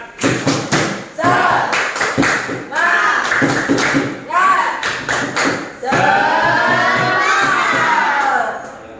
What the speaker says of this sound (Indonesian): untuk lebih semangat kita akan melakukan tepuk semangat ya